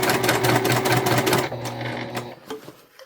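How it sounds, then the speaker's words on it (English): A domestic sewing machine stitches a beginner quilted fabric basket, its fast steady mechanical whir running loud for about a second and a half before stopping, followed by quieter fabric handling and a few soft clicks. "This should be a relatively easy sew. This is very beginner friendly, very domestic machine friendly."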